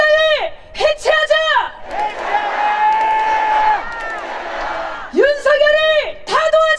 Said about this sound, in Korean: 구호 외쳐보겠습니다